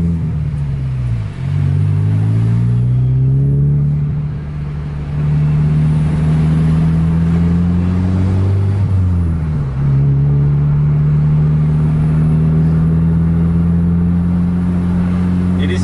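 Two Scania K410 buses roar close by in a road chase, their engines droning loudly and steadily, rising and falling in pitch as they rev and shift through gears with brief dips between pulls.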